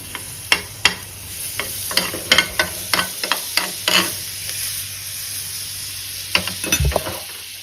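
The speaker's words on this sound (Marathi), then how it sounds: "आणि दुसरी बाजू उलटून असं छान भाजा खरपूस भाजा" Chapati sandwich frying in butter in a pan over very low heat, with soft continuous sizzling under a series of sharp clicks and scrapes of a spatula turning and pressing it; no speech.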